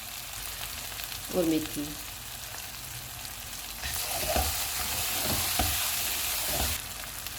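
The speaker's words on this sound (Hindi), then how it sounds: "इसको हम 3 मिनट तक भुनेंगे।" Onion paste and spices fry in a pan for chicken, a low steady sizzle that swells louder midway, with a few stirring scrapes and a brief spoken word.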